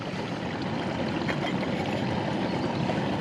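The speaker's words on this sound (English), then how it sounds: "at this point we've got some slight bubbling happening at the bottom, but it's definitely not a rolling boil" Water in a mug heated outdoors in the wild bubbles gently, short of a rolling boil, as a faint continuous fizzing hiss with no talk.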